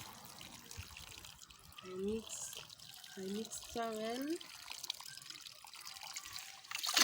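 Water splashes and trickles onto lettuce seedlings in a container, a soft pour heard beneath a voice, which drops in and out over the flow.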